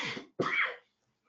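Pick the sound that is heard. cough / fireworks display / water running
cough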